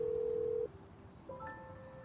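Phone dialing in the video game Love and Deepspace: a steady tone that cuts off, then a few short electronic beeps and tones as a call is placed, quiet and clean with no talk.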